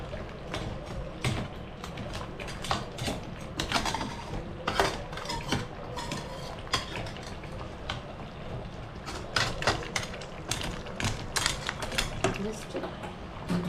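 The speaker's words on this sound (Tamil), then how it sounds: "மசாலாவோட நல்லா கூட் ஆகிற மாதிரி நல்லா நம்ம கிளறி விட்டுக்கலாம்" Crab masala gravy being stirred in a pan, repeated scraping and clinking strokes of a spoon against metal in an uneven rhythm, close and moderately loud, with someone talking over it.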